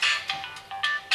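A mobile phone ringtone chirps in short bright pulses, about five quick bursts in just over a second, close and clear with nothing else over it.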